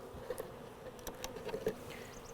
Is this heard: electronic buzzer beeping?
no